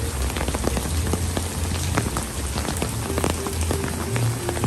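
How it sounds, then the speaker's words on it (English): Rain falls steadily at Disney's Animal Kingdom, drumming on nearby surfaces in a constant close hiss broken by frequent sharper drips and taps, with no talking. "Hear the pitter patter of the rain today."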